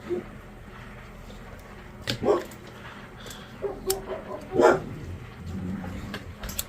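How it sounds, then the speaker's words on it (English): A dog barks a few times at a distance during flintknapping, sharp separate yelps spread across a quiet, steady background hum. "Sorry about that, dog's barking."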